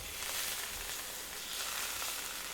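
Ginger and garlic stirred into onions and spices in a hot frying pan for chicken curry, giving a steady close sizzle with soft scraping throughout, no voices.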